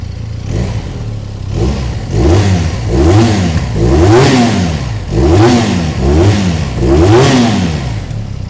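A Benelli Leoncino 500 motorcycle engine, already warmed up, revs repeatedly, about six rising and falling throttle blips in a steady rhythm, loud and close with a rough, clattering idle between.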